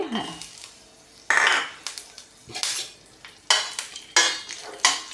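Garlic cloves dropped into hot oil in a pan, giving bursts of sizzling separated by scraping and clinking of a spoon against the pan, close and fairly loud.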